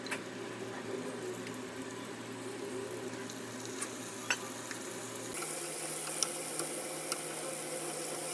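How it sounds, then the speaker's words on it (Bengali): Prawns fry in a pan of hot oil for a Bengali yam and prawn curry, giving a steady close sizzle throughout with small spatters and no talking; the texture shifts slightly partway through. "এবার চিংড়ি মাছগুলো ভেজে নেব।"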